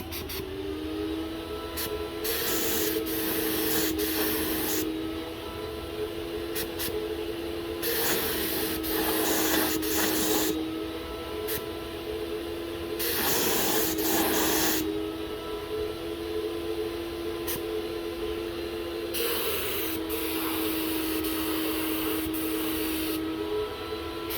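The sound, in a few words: Graco 9.5 HVLP Pro Contractor spraying shutters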